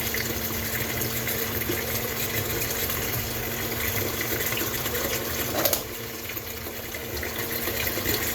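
Tap water runs steadily into a sink during dishwashing, a continuous close gush with a brief clink midway.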